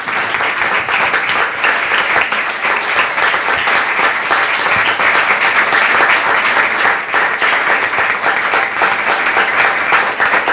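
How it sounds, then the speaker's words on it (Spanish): A crowd at a book presentation claps for the author in dense, continuous applause, loud and even from start to finish, with no voices above it. "Pido un aplauso para el autor."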